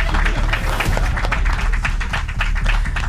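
Applause from a studio audience on a French game show, dense and close clapping with sharp individual claps standing out, steady for a few seconds with no speech over it.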